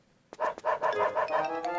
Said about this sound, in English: his bark took away 2 hearts